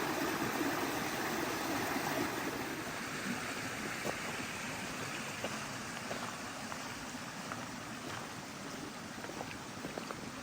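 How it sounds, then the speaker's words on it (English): Steady rushing water of a Vermont creek on the Appalachian Trail flows continuously, a broad even wash with small splashes, no voices. "Crossing back over the creek again."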